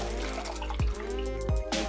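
Water poured steadily onto goo-making powder, a continuous splashing pour lasting about two seconds with a couple of brief louder gushes and no talking.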